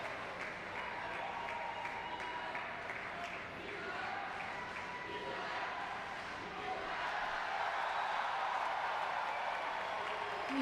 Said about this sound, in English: The crowd really getting behind these athletes